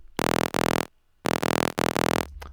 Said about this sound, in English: I've got this main mono bass here, which I believe is just a Vital single saw wave.